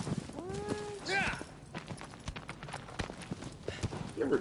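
Hooves of a horse clip-clop in Shadow of the Colossus, a sparse irregular series of sharp knocks at moderate level, while people talk over them and a horse-like whinny sounds briefly early on.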